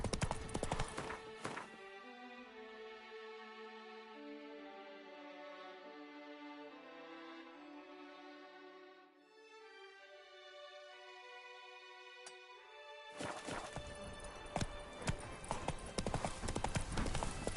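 Roach, the horse in The Witcher 3, trots with steady, rhythmic clip-clop hooves over a sustained musical score, the hoofbeats loudest at the start and again near the end.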